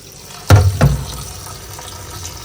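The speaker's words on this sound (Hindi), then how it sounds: "तो अब इनको चलो वॉश कर लेते हैं अच्छा सा" Fresh coriander leaves and stems are rinsed under a running kitchen tap while cooking biryani, giving two short, close splashy bursts of water before a quieter trickle.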